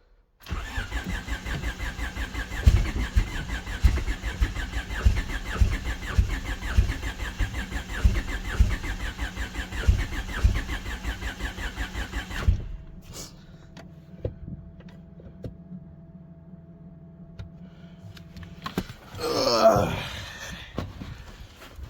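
A rebuilt Honda D16 engine cranks and sputters for about twelve seconds in a steady rapid churn, then cuts out, leaving a low hum and a brief clatter near the end.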